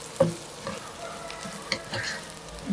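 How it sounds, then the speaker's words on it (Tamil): Curry leaves sauté in hot oil in a pan while a mutton rib bone curry is being made, giving a steady close sizzle with scraping stirs from a spoon, alone with no voices. "கருவேப்பிலையே போடுவோம். கொஞ்சம் நேரம் வதக்குவோம்."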